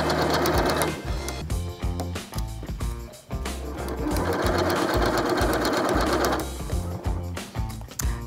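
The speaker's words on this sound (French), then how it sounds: "Je commence avec un point d'arrêt. Et je couds sur toute la longueur." A domestic sewing machine runs a long continuous seam on a large toiletry bag, a loud close mechanical whirr with rapid needle chatter, briefly slowing for a moment midway before resuming at full speed.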